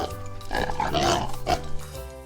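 Pig oinking and grunting close and loud, a few nasal snorting calls over about two seconds, heard alone without talk.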